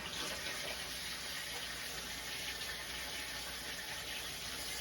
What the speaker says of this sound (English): I'm gonna rinse my hands off really quickly